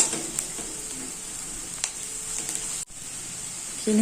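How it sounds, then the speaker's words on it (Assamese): Steady, fairly loud sizzling of spices, including coriander powder, frying in hot oil, with a few faint clicks and scrapes, no voices. "সেইখিনিও ভালকৈ ভাজি ল'ম। মছলাখিনি"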